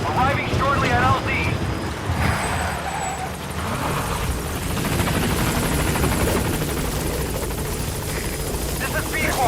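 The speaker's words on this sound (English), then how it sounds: "Support helicopter has arrived." Support helicopter arriving at the landing zone in Metal Gear Solid V: The Phantom Pain, a steady loud rotor drone throughout with a game voice speaking over it.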